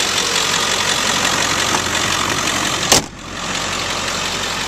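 A 2002 Ford Excursion Limited 4x4 idling close by with a steady, loud engine rumble throughout, interrupted by one brief sharp knock or clunk near the end.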